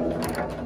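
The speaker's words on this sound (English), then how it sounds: "take this nut off with our socket and our crescent wrench" Socket wrench loosening a nut during a mechanical lock replacement, giving a brief run of close, quiet ratcheting clicks over a steady background.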